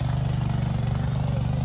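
A tractor engine drones steadily while plowing a field, a close, even, low-pitched rumble that holds without change throughout.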